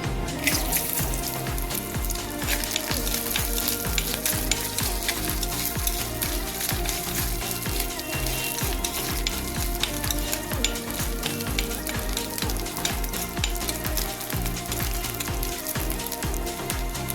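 Grated coconut frying in coconut oil in a clay pan for cashew nut theeyal, a loud, continuous close sizzle broken by frequent sharp stirring scrapes and clicks, with no voices.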